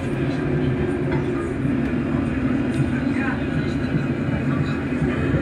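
A moving passenger train carriage rumbles steadily, a dense low, continuous roar with faint rattles and clicks throughout.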